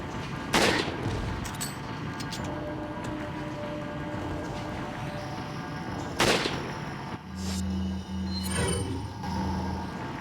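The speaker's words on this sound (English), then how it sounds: "Just going to spin an entire clip of rifle rounds, pulling headshots on Dr." Rifle gunfire in Resident Evil 4 on PC, with a few sharp shots standing out over a dense, busy game soundscape, followed by low humming tones.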